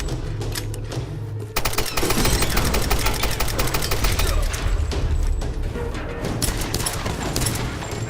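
Rapid automatic gunfire from a weapon in the video game Tomb Raider, loud dense bursts of shots rattling almost continuously over a low rumble.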